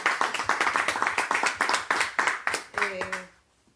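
Audience applause at a Spanish-language talk: brisk, close clapping from a modest crowd that carries on at an even pace for about three seconds, then stops, with a short voice sounding near the end.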